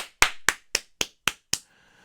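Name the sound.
round of applause, clapping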